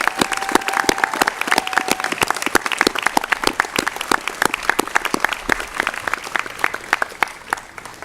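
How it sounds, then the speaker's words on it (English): An audience applauds at a Memorial Day commemoration at the Nixon Library following a Marine Corps band performance: dense, steady clapping from a large crowd, sustained for the whole stretch with crisp individual claps standing out. "Ladies and gentlemen, let's give them another round of applause."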